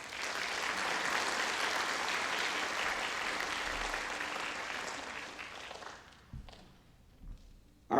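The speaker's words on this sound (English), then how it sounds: "Could we give them a round of applause?" Sustained applause from an audience at a high school athletics hall of fame induction ceremony, broad and steady for about six seconds, then fading out to a near-silent room with a few soft thumps.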